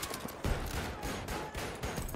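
Gunfire in a DICE Battlefield shooter video game, rapid bursts of shots with heavy echo that repeat in quick succession and stay loud throughout.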